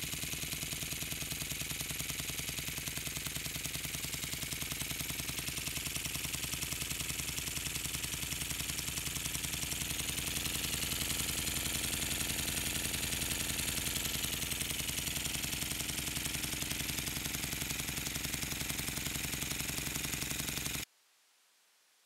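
An Upshur vertical single-cylinder engine runs steadily and loudly up close with a rapid, even chuffing knock for about twenty seconds, then cuts off abruptly.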